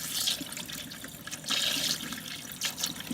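Tap water runs from a faucet while a Dyson V10 air filter is rinsed under it, a soft continuous splashing hiss that swells in a few surges, quiet and close, with no talk.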